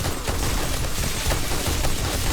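Rapid gunfire rattles through a zombie fight in the video game 7 Days to Die, dense overlapping shots in a loud continuous volley with no talk over it.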